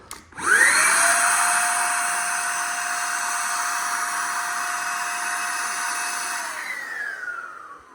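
An electric paint sprayer applying base coat to a wall during a home renovation, spinning up to a loud, steady whine with airy hiss, running continuously, then winding down at the end.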